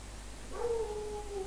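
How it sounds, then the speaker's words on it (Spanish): A dog in Far Cry 5 lets out a single drawn-out whining howl that starts about midway and trails off steadily, fairly faint against a low background hum. "El sauce está ladrando"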